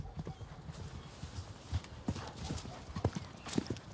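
Horse hooves clip-clop on the ground during a TREC horseback riding event, an irregular run of soft, close hoofbeats with no talk.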